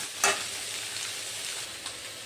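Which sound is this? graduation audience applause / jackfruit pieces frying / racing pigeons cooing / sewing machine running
jackfruit pieces frying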